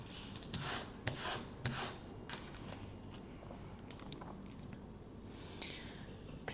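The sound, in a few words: scratching a scratch-card lottery ticket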